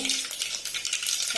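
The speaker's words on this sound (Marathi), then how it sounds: "तेल गरम झालेलं आहे, त्याच्यामध्ये आपण मोहरी टाकून घेऊ" Mustard seeds sizzle and crackle in hot oil for misal gravy, a close, bright spattering hiss with rapid popping bursts and no voices.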